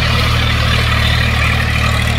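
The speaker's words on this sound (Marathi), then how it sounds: "हे असं हे ट्रॅक्टर" A tractor engine running steadily in a muddy, flooded rice field during transplanting, a loud, close, continuous low rumble with no pauses and no voices.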